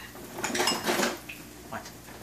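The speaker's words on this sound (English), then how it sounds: "Get a spatula and turn over the potatoes for me." A metal spatula scraping and turning potatoes in a pan of hot grease, a short burst of clattering scrapes close up, then a lighter clink or two against a faint background hum.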